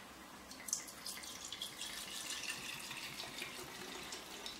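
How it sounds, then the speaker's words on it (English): Whiskey is poured into a can, heard as a soft, steady trickle of liquid running for a few seconds, fairly close and quiet with no talking. "So I'm going to pour a few shots of it down into the can."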